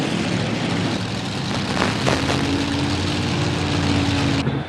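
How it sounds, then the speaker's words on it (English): A turbine-powered pulling tractor at the 1995 NFMS tractor pull in Louisville, Kentucky, roars loudly and continuously, with a steady high whine running through the broad engine noise until it cuts off near the end. "And we hear that high engine whine that accompanies the turbine engine power."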